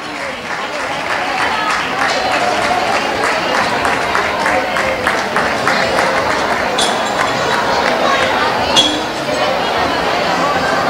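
Sustained crowd applause for a prize winner at the Bornos town fair, dense and continuous for about eleven seconds, with a few sharp clinks of glass or cutlery and faint voices mixed in.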